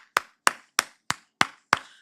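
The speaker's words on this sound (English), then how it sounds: "Let's give a round of applause" Six sharp, evenly spaced claps ring out alone at close range, slow and deliberate rather than a crowd's full round of applause.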